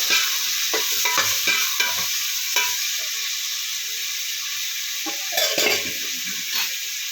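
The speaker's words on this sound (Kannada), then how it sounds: "ಈರುಳ್ಳಿ ಹಸಿಮೆಣಸಿನಕಾಯಿ ಮೆಂತ್ಯ ಸೊಪ್ಪು ಒಗ್ಗರಣೆಗೆ ಹಾಕೋಬೇಕು" Onion, green chili and fenugreek leaves fry in hot tempering oil with a loud, continuous sizzle, broken by repeated scraping stirs of a spoon against the pan, close by and with no speech.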